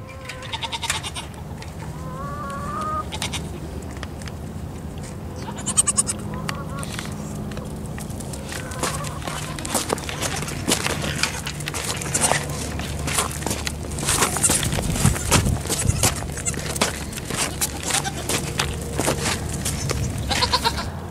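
A young goat bleats in a pen after disbudding. The calls are repeated and near, over rustling footsteps and movement, with a person talking at times.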